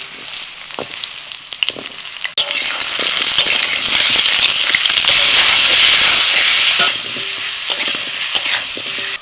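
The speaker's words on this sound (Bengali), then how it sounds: "প্রথমে অল্প তেলের মধ্যে আলু ভেজে নেব।" Potato pieces fry in a little oil in a pan, giving a loud, steady crackling sizzle that swells and holds for several seconds, with occasional clicks and scrapes of stirring.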